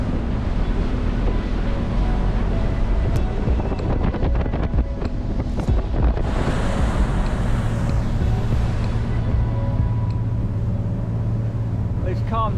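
Steady wind buffets a sailing boat at sea off the Sardinian coast, with a constant rushing roar over the water and a low rumble beneath it, loud and close throughout.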